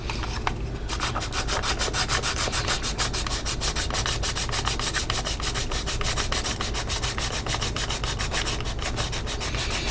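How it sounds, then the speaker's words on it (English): Sandpaper scrubs rapidly back and forth across the edges of a Bandai HG 1/72 Jo Hound plastic model kit part, a close, loud, rhythmic rasping that runs without pause. "I can sand the edges like that as well"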